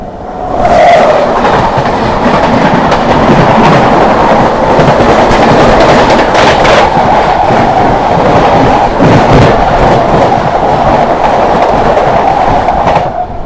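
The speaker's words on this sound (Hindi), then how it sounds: "सामने से आ रही है शकूर बस्ती प्रयागराज स्पेशल।" A Shakur Basti–Prayagraj Special passenger train rushes past nearby, a loud, continuous roar with rhythmic wheel clatter over the rails for the whole stretch, fading a little at the end, with no talk.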